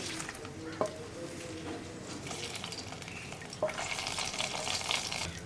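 Hot tempering poured into a banana buttermilk curry (pazham moru curry) made without coconut, giving a steady close sizzle and frying hiss with a sharp burst near the start and a louder crackling surge later.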